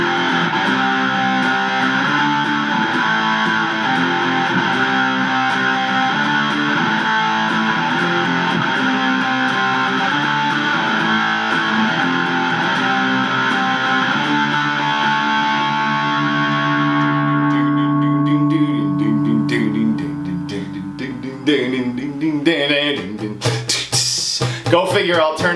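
A heavily distorted electric guitar rings out in a long, loud sustained chord, then fades into a few choppy, scratchy strums near the end.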